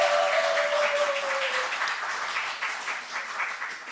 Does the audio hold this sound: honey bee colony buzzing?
no